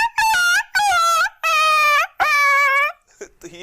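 A man vocally mimics a dog hit by a bicycle, producing four long, loud, close whining yelps in quick succession, followed by a short softer tail.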